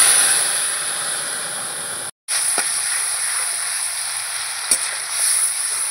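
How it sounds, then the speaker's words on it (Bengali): Ground spice masala hits hot tempering oil with turmeric, setting off a steady, close, loud sizzle and hiss that cuts out for a split second midway, then carries on with a couple of faint scrapes. "এই ফোড়নের মধ্যে আমি এই মশলাটা দিয়ে দেবো।"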